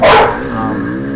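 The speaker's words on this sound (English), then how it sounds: "those dogs are getting noisy" A single sharp dog bark, loud and close, followed by a trailing whine-like tone, at a hare scramble race.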